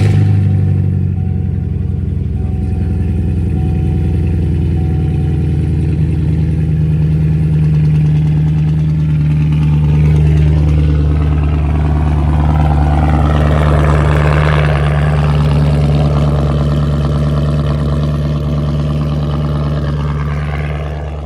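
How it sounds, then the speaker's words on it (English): A catless sixth-generation Chevrolet Camaro SS idles after a cold start, its deep, steady exhaust rumble close and loud throughout, swelling slightly partway through before settling back. "Let's get y'all guys a cold start"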